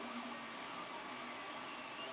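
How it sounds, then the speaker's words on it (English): The parts cooling fan on a Metaform Pico Hybrid hotend fitted to a Creality 3D printer gives off a steady, faint whirring hum. It is constant and even, with no talking over it. "The parts cooling fan, I'm calling this a con just because it's a different pitch than what you're used to."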